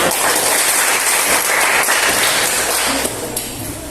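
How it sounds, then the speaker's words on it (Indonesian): A classroom full of students applauds, dense steady clapping that holds strong and then eases slightly toward the end, with no talking. "Tepuk tangan dulu."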